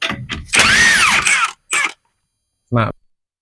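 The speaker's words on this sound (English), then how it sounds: "it is a 26 socket. Take that large nut off the spindle." A drill or impact tool with a 26 socket spins a large nut off a car's wheel spindle, with a sustained whirring burst followed by two short bursts, loud and close.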